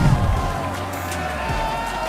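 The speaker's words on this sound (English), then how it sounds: "DreamHack, make some noise for Vitor 75!" Crowd cheering and whooping at the Clash Royale League World Final 2025 at DreamHack, a broad steady roar of many voices filling the hall, with an announcer's amplified voice over it.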